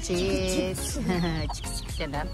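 Several chickens cluck and squawk close by in a busy, overlapping flurry of calls.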